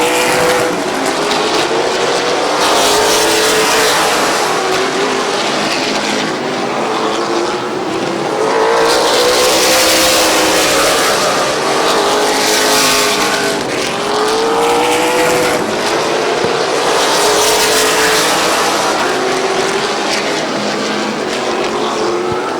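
Race cars roar around Midvale Speedway during a fall classic battle for the lead, loud engines rising and falling in repeated passes as the pack circles close by, with no talk over it.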